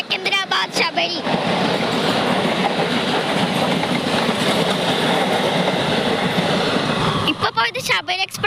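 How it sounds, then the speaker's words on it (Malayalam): The Sabari Express, running from Thiruvananthapuram to Secunderabad, roars past at close range with a steady rushing clatter of wheels that fills most of the stretch before dropping away, with voices briefly at the start and end. "ഇപ്പൊ പോയത് ശബരി എക്സ്പ്രസ് ആട്ടോ, തിരുവനന്തപുരത്ത് നിന്ന് സെക്കന്ദരാബാദിലേക്ക് പോണ"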